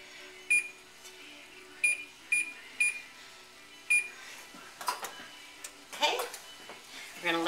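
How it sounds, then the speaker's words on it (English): A kitchen timer being set for biscuits gives several short, sharp beeps at irregular intervals, followed by faint clicks and rustling as it is handled nearby. "we're going to set the timer for the biscuits"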